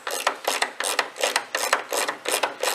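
Rapid, even ratchet clicks from a 13mm socket loosening the top bonnet hinge nut on a Ford Ranger T6, a close, loud run of repeated back-and-forth strokes with no speech.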